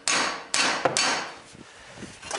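Slide hammer hammered to pull off a car part, three sharp metallic slams in quick succession with short ringing decay, then softer knocks and rattles, close and loud with no talk.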